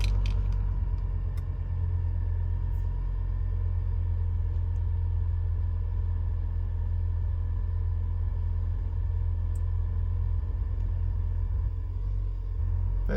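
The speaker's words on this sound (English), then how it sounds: "and then start the car" A Hummer H3 engine idling after being started, a steady low rumble held close and unbroken throughout, with a faint light jingle near the start.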